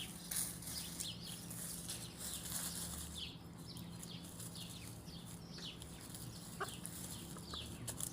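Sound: rooster in new chicken coop

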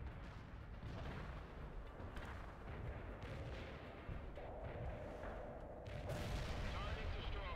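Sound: artillery fire in the World in Conflict video game

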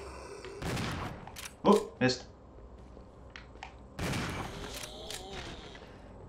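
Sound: shotgun shots fired in video game Resident Evil 0

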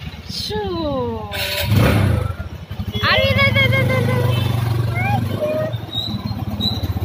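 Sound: motorcycle engine running

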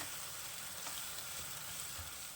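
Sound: stir-frying Kashmiri red chilli pickle in a pan

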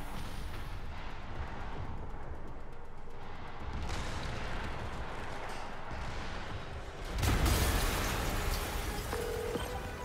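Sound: explosion in the video game Marvel's Spider-Man Remastered

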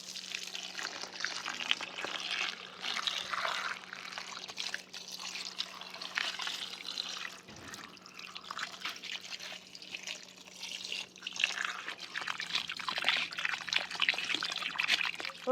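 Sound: washing freshly harvested beetroot and vegetables in water

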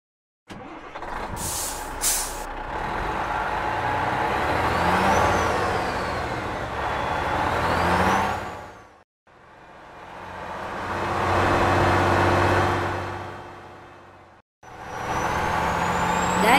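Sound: dump truck in a cartoon

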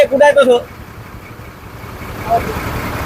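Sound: vehicle engine idling

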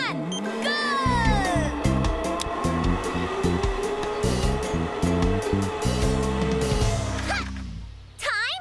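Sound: blower pushing jet-powered zipline trike

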